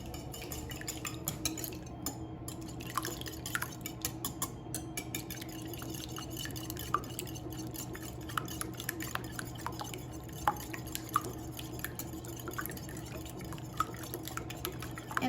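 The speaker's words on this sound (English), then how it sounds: "I'm going to now whisk them." Ingredients for a Bisquick breakfast casserole are whisked in a bowl, making a steady run of light, rapid metallic clicks and scrapes close by, with faint liquid sloshing throughout and no talking.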